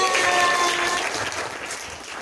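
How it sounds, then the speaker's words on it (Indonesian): Audience applause at an Indonesian tax awareness event, a short burst of dense clapping, loud at first and tapering off, with a faint tone ringing at the start. "Tepuk tangan."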